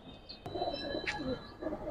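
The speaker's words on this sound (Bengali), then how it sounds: "এইবার মনে হয় একজোড়া কবুতর দেখাইতেছি।" A Giribaz pigeon gives a low rolling coo at close range, with soft chirps and a brief voice alongside it.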